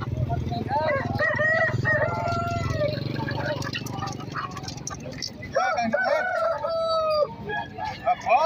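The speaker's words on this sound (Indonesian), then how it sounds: "pada B200 ada 2 ekor ya, kita tawarkan 200 babonan ayam BK pasar Tambak." Roosters crow repeatedly nearby at a market in Tambak, Banyumas, several long cock-a-doodle-doos over a background of clucking hens and voices chatting.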